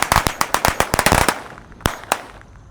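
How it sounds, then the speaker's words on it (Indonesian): A rapid string of jumbo Corsair firecrackers pops in sharp, loud cracks, a dense burst of a dozen or so bangs followed by a few scattered late explosions outdoors. "Yang akan kita nyalakan ada Corsair. Ini ukuran S. Ini jumbo-jumbo guys."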